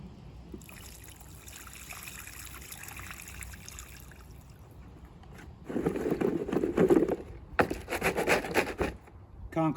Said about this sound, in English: Just pour some of this water out and show you.